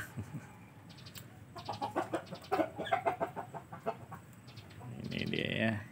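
Aseel Parrot chickens, a hen with roosters, clucking in a run of short, close calls gathered in the late afternoon, with a soft rustle toward the end.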